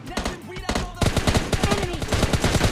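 Rapid bursts of video game gunfire, automatic shots rattling in quick succession, loud and close, briefly pausing before a denser volley.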